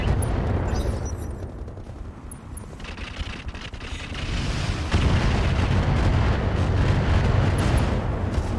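Mech battle in the game Roguetech, with dense booming weapons fire and rumbling explosions rolling continuously, loud and close, swelling heavier toward the end with no voices.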